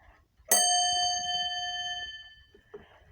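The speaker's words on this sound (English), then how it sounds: "it's a nice sounding bell actually" A single bell is struck once and rings out with a clear, bright tone that decays slowly over about two seconds, close and loud, with only faint background noise and no speech.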